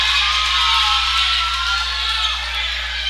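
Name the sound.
basketball crowd cheering after a slam dunk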